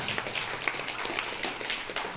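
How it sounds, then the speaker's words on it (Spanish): Strong applause at a swearing-in ceremony for regional councillors in Peru, a dense, steady patter of many hands clapping throughout the short stretch and swelling louder at the very end. "Fuertes palmas."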